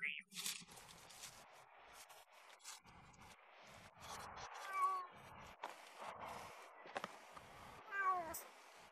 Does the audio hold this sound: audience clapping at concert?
no